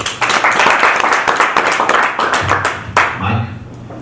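Small practitioner class giving a round of applause, a burst of close hand claps that thins out toward the end as a voice begins to speak.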